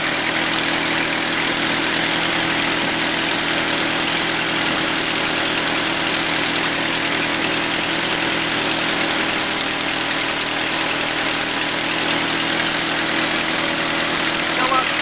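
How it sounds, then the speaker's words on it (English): A Ford 8N tractor engine runs loud and steady, lugging down under generator load, a constant low rumble and drone with no clear change in pitch. "you heard the engine lug down a little bit"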